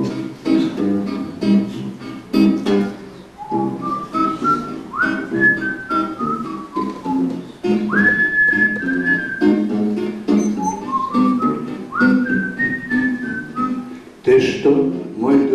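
A man whistles the opening melody of a song at a 1999 bard concert in Dortmund, loud and close, rising and gliding phrases broken by short pauses, with a brief vocal sound near the end.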